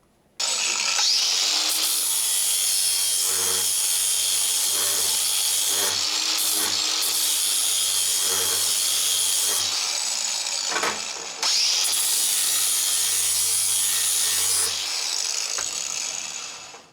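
An angle grinder with a grinding disc scours rust off weathered steel ahead of MIG welding, a loud continuous abrasive whine in two long passes broken by a short pause.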